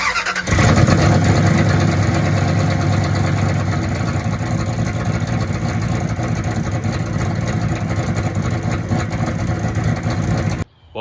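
A 5.2L Magnum engine fires up after a rear main seal repair and settles into a steady, loud, close idle with a constant rumble that runs for about ten seconds before cutting off abruptly, with no voices.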